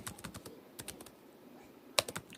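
Keys clack on a computer keyboard in an uneven, hesitant rhythm, a handful of quiet close-up taps with a slightly louder strike near the end.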